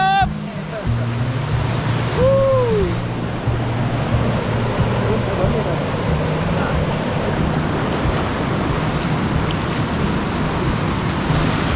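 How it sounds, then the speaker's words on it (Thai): A forest waterfall gives off a loud, steady, rushing roar that holds without a break throughout. A brief whistling bird-like call rises above it near the start. "น้ำตกน็อกเกิบ"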